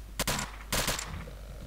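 Two sharp, loud gunshot bursts from the video game Stalker: Call of Pripyat, close together, with a brief crackling tail after each.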